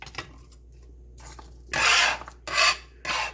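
A bench scraper scrapes chopped garlic across a cutting board in three quick, close rasping strokes. The strokes follow a quieter stretch of softer rubbing.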